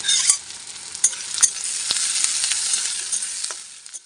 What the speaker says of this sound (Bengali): তেলের মধ্যে পেঁয়াজগুলো দিয়ে দেবো।